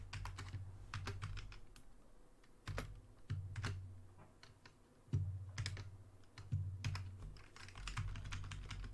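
Typing on a computer keyboard comes in uneven bursts of close, crisp key clicks separated by short pauses, with a low background hum and no talking.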